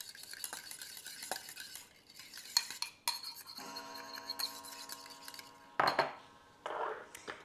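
Caesar dressing stirred in a bowl, a quiet run of clinking utensil strokes and scrapes against the dish with brief pauses between them, close and alone.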